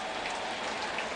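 Rain falling on a rainy night at a 2008 St. Louis Cardinals baseball game, a steady, dense hiss of drops spattering on surfaces, even and continuous with no voices.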